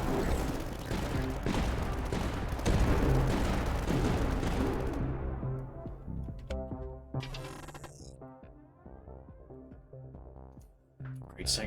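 Heavy cannon fire from the sanction cannon in the tower defense game Tower Dominion, a dense barrage of loud repeated blasts that thins into scattered booms and rumbling over the next several seconds.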